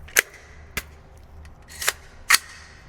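Four sharp shots ring out from a 300 Blackout rifle build firing Hornady Black ammunition, spaced irregularly across a few seconds, crisp and fairly distant-sounding, with no talking between them.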